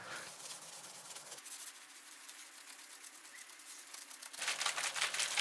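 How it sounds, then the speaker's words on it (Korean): Tile being wiped clean with acetone before titanium dioxide coating for laser marking, a soft dry rubbing and scrubbing that swells at the start and again near the end, close and steady with no voices. "우선 아세톤을 사용해서 타일을 깨끗하게 닦아줍니다."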